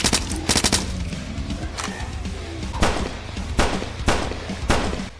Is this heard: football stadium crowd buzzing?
no